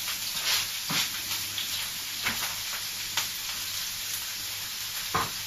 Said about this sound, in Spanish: Echamos las verduritas en aceite